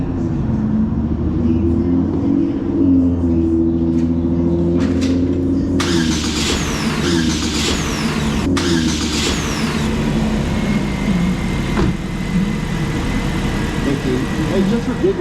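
A car engine cranks and catches after the ground cable is connected, then settles into a steady idle, with a person speaking over the engine noise.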